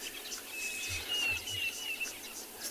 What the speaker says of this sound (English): So many birds calling at the moment.